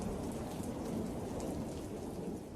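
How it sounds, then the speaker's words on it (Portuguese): Steady rain outside a church in a radio drama scene, a dense, even hiss of falling water with no voices, fading slightly at the end. "Em segundo plano, a chuva e, ao fundo, um pouco distante e embaçado rio."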